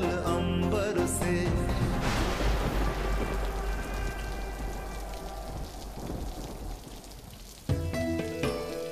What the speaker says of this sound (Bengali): কি মুষলধারে বৃষ্টি হচ্ছে দেখুন।